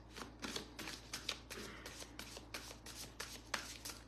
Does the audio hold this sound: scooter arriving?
no